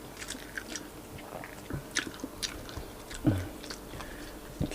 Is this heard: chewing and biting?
yes